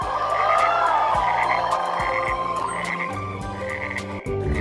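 Loud, rhythmic frog croaks repeat close by in a steady pulsing chorus, with higher chirping calls layered on top; no voices.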